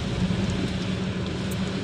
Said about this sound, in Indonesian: ini hujan ya teman-teman, pas hujan di Kabupaten Segeri